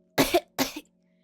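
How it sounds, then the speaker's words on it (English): Two harsh, raspy coughs in quick succession, close and loud, followed by a faint trailing breath. "I rested my hands on my knees and coughed raspily."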